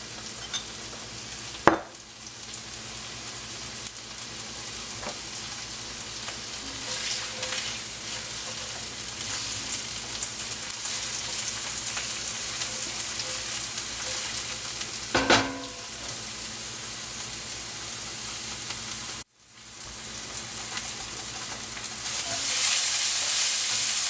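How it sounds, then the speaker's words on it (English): Onions browning in a frying pan with a pinch of salt, sizzling steadily and close for the whole stretch, with occasional stirring scrapes and a brief break near the end. "browning the onions. I'm just getting them started before the eggplant."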